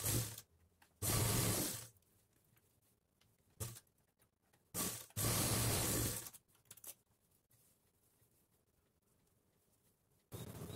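Sewing machine stitching lining cloth for a 40-inch blouse, loud rapid mechanical chatter in two long bursts with shorter runs between, close by, separated by quiet handling pauses.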